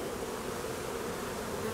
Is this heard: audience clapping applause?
no